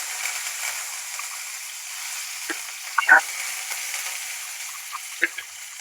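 Curry leaves sizzling in hot oil with dried red chilies, cumin and mustard seeds, a steady soft frying hiss with a few sharp crackles and pops, close and moderate in level.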